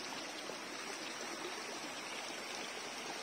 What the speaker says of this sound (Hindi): ये है जी कुदरती चश्मा, और ये पहाड़ों से पानी निकल रहा है